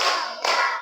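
A classroom of students claps together in a focus-clap chant, a dense burst of group clapping that swells briefly mid-way and carries on at steady strength.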